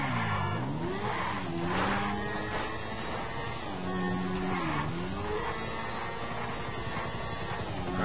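A motorcycle is ridden in the GTA 5 video game, its engine droning continuously and rising and falling in pitch as it revs and shifts, with tire noise and no talk.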